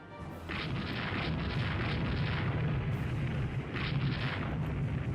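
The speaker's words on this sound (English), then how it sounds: "We're also hitting him with a lot of the 3-inch guns, too." 3-inch naval guns firing in the naval warfare game Rule the Waves 2, a continuous heavy rumble of gunfire and booming impacts with brighter bursts at the start and again near the four-second mark.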